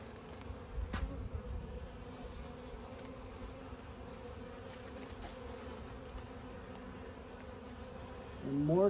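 Honey bees buzz steadily during an open beehive inspection as new comb and pollen are exposed, a continuous close hum with a brief louder swell at the end and no talking.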